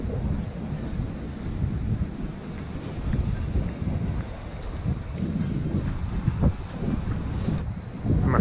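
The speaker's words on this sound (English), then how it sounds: "I'm afraid this is going to get blasted by the wind here" Strong wind buffets the microphone beside a harbor, a constant loud rumbling roar with gusty surges and no clear speech.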